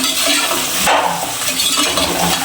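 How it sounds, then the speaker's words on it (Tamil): Vegetables for a biryani sautéing in a pan, giving a steady close sizzle with spoon stirring and light clinks of utensil on metal, no talking. "காய் வந்து நல்லா வதங்கட்டும்"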